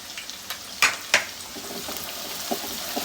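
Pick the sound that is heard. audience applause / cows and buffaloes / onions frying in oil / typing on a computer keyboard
onions frying in oil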